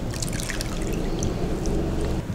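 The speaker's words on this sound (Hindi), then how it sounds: "इस पानी को निथारने के लिए हम इन लच्छों को एक स्ट्रेनर में डालेंगे।" Water draining through a strainer from grated potato shreds in a kitchen, a steady wet trickling and dripping patter, close and fairly loud throughout with no talking.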